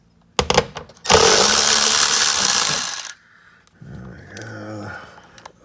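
A power wrench whirs loudly for about two seconds while loosening a fog light bolt on a 2017 Corolla iM, preceded by a few clicks and followed by someone speaking nearby.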